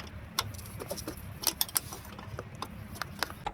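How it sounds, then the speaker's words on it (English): A 14mm wrench works on the strut nuts of a 2011 Toyota Corolla, giving repeated metallic ratcheting clicks and clinks over a low background, close and moderately quiet, no talking. "I'm gonna use this 14mm wrench."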